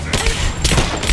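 Rapid heavy gunfire in the video game Rise of the Tomb Raider, a dense, loud, continuous volley of shots with no gaps across the whole short stretch.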